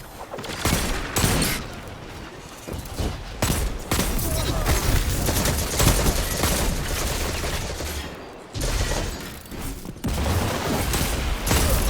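Machine gun fire in Destiny 2 Rumble, a dense run of rapid automatic bursts that sound loud and close, broken by brief pauses and other gunshots. It carries on through the whole stretch.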